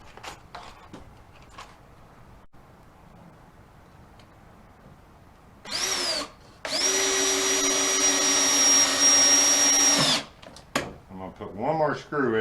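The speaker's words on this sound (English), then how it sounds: "Put one more screw in" A power drill drives a screw into wood while building the base of kitchen seating with storage: a short burst, then a longer steady whirring run of about three seconds. Talk and workshop knocks come before and after.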